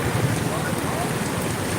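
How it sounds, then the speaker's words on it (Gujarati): Heavy monsoon rain pours over a flooded market street in Junagadh, a steady dense hiss of downpour with some wind rumble, close and continuous throughout. "આ વરસાદ બંધ ન થયો"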